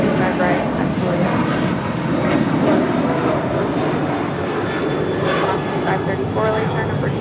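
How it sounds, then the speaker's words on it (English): An Alaska Airlines Boeing 737-900 departs LAX for Los Cabos, a continuous loud jet roar with rumbling low end that stays steady throughout. Brief radio chatter sits underneath. "This is Alaska Airlines Flight 1446 departing to Los Cabos on a 737-900."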